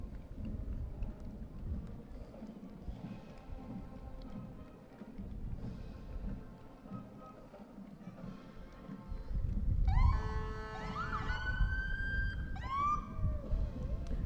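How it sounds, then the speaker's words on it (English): Police car sirens at a town bicentennial parade in Troy, Ohio, with a low rumble and crowd ambience first, then loud wailing and yelping siren bursts nearby in the second half. "Little action with the sirens there, Clint."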